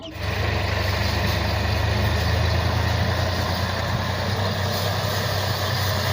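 A tractor hauling a trolley on a dirt village road gives a loud, steady diesel engine drone with a constant low rumble close by, throughout the clip.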